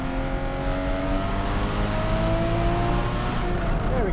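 A Porsche 981 Boxster GTS engine revs hard under acceleration, a loud sustained climbing engine note that holds high before easing, heard from close with no talk.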